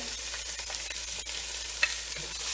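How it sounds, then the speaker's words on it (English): Steady sizzle of one whole chopped onion sautéing in a hot pan, with occasional soft scrapes and clicks from stirring. "I'm just going to stir it, let it simmer, saute a bit."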